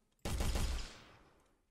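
A rapid burst of loud gunfire in an Unreal Engine 4 destruction test, several shots fused into a short volley, then a fading echoing tail.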